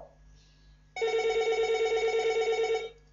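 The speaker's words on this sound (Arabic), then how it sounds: "سمحوا لي واحد الدقيقه نجاوب التليفون" A telephone rings with one continuous electronic warble lasting about two seconds, steady and fairly loud against a quiet room with a faint hum, starting and stopping sharply.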